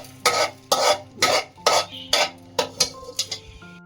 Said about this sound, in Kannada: ಫ್ರೈ ಮಾಡಿದ ಪದಾರ್ಥಗಳನ್ನು ಒಂದು ಮಿಕ್ಸಿ ಬೌಲ್ಗೆ ಹಾಕ್ತಾ ಇದ್ದೀನಿ.